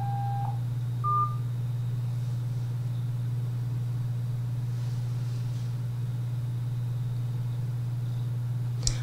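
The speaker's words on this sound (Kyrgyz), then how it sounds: "5-чү номерге чалып көрөбүз." Two short telephone keypad dialing tones sound near the start over a steady low electrical hum as a number is called, followed by several seconds of quiet line with only the hum.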